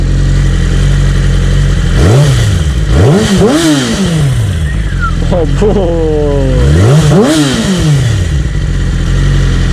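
Yamaha R6 sport motorcycle revved in neutral, several sharp throttle blips rising and falling over a steady idle, loud and close, with people talking nearby.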